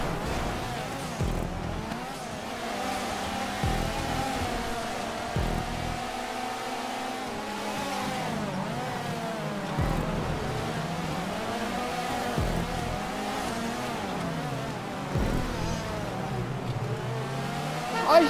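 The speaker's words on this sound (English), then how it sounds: "Shit, that's a skid!" A car racing in GTA V, with a steady engine drone that rises and falls through gear changes and tires squealing in a skid, loud and continuous throughout.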